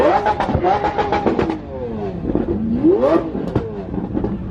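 Several Bugatti supercars pull away one after another, engines revving and rising in pitch in loud, close bursts with rapid gear-change swoops, amid background crowd noise.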